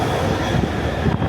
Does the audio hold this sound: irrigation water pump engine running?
no